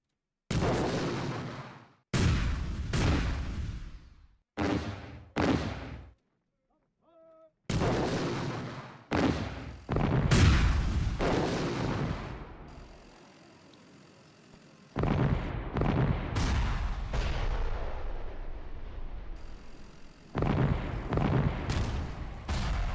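Booming cannon and artillery fire from the Power & Revolution strategy game's Syria war scenario: a rapid string of loud, close blasts with rumbling tails, some overlapping into sustained barrages.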